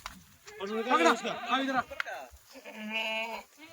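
A goat bleats close by in two wavering, drawn-out cries separated by a brief pause.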